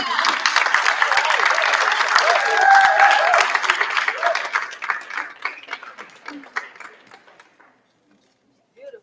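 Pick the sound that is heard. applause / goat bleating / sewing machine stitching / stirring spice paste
applause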